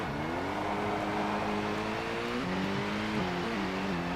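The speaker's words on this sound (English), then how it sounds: "Engine's damaged, I can tell." A damaged rally car engine in a McRae rally video game drones steadily at high revs, its tone stepping up and down as it shifts, with no talk over it.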